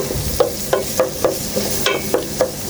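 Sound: garlic and onion sautéing in a pan

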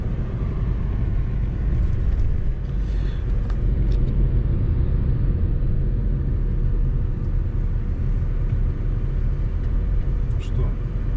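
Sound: bus driving past on a narrow street

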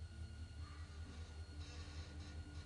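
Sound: train running in the video game The Walking Dead

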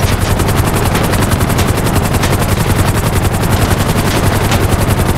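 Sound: gunfire in the video game GTA 5

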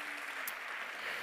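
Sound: audience applause at awards ceremony

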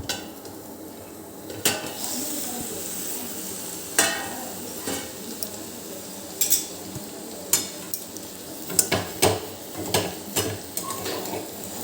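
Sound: stirring potato and ivy gourd curry in pan

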